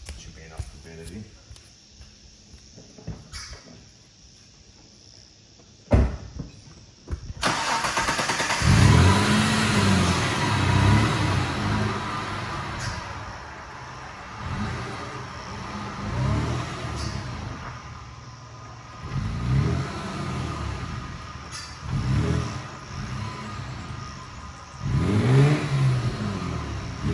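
A Mitsubishi Triton ute with freshly adjusted front torsion bars fires up with a sharp start, then idles and rises in several revving swells as it rolls down a driveway and back, loud and close, with a voice talking early on.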